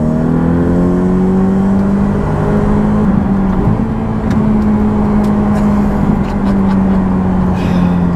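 A Ferrari 488 Pista with an Inconel exhaust holds a loud, close, droning engine note with shifting pitch, while sparse sharp crackles and pops scatter over its second half.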